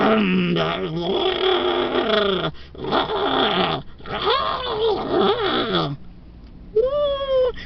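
A voice growls and whines in long wavering bursts, imitating an airplane engine, rising and falling in pitch with short pauses between.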